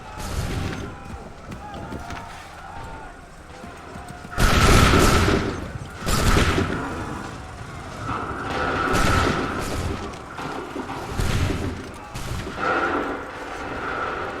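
Musket volleys fire in Assassin's Creed 3, with several heavy booming bursts of massed gunfire spaced a few seconds apart. Shouted commands come between the blasts.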